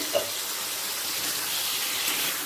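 A soft, even hiss of whole pointed gourds frying under a lid, steady and muffled with a faint pop near the start.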